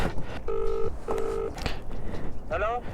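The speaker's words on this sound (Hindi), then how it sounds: "भाई को फ़ोन कर देता हूँ" A mobile phone dials a call during a scooter ride, giving two short, clear keypad tones followed by a brief chirping signal, with speech and roadside noise in the background.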